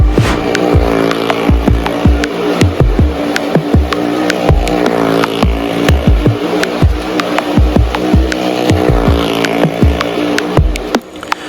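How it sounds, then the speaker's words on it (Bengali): A motorbike ridden hands-free in a stunt show at a Bangladeshi event gives a loud, continuous engine drone with frequent sharp revs and bursts, close and unbroken, with no talk. "একদম উপরে উঠে হাত ছেড়ে দিয়ে বাইক ড্রাইভিং করা শুরু করে দিলেন"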